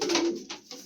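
Pigeon giving a brief coo up close, one drawn-out note followed by two short softer bursts, fairly faint with no talk.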